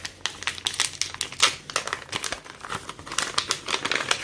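The plastic packaging of a planner sticker kit crinkles and rustles close by in quick, uneven bursts of crackling, with no talking.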